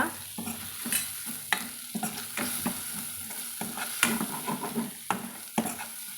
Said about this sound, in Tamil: இது எல்லாத்தையும் நம்ம எண்ணெயில் வதக்கி விட்டுருலாங்க